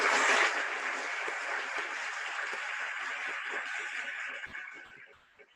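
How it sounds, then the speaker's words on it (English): A crowd at a school band banquet applauds the honor band members, broad sustained clapping that holds steady, then thins and fades out near the end. "Let's give a round of applause to these honor band members."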